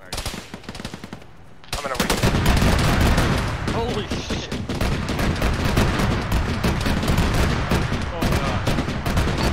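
Rapid autocannon bursts in an Arma combat game, loud and dense, continuous heavy gunfire pounding from about two seconds onward after a quieter opening, with faint voices mixed underneath.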